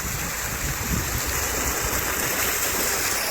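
Water pours steadily into a farm water tank, filled by a pump once the power comes back on, making a close, continuous rushing gush with no pauses.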